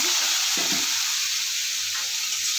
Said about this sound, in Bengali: মাছগুলো দিয়ে দেবো ভাজা করার জন্য